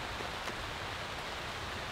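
Heavy rain drumming steadily on a LiteFighter one-person military tent, a dense, even hiss with no pauses.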